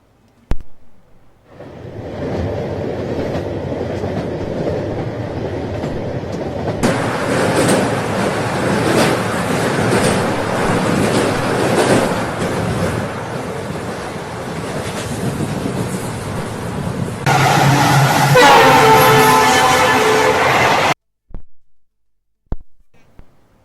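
A train runs on a newly built railway line of about 52 km near Aizawl: a steady, loud broadband rumble that swells midway, turns brighter with tonal squeals near the end, then cuts off.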